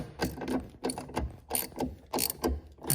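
Ratchet wrench clicking in repeated short bursts while snugging the bolts of steel grab handles on a Jeep Wrangler, close and fairly quiet, with brief pauses between strokes.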